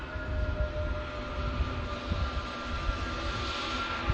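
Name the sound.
Aegean jet taxiing, Pratt & Whitney geared turbofan engines whistling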